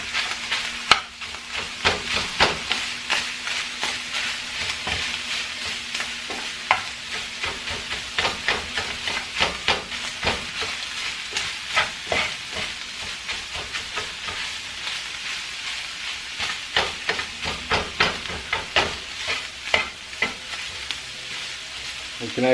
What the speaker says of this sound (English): Generous amount of black pepper, some garlic powder, and just start stirring it up.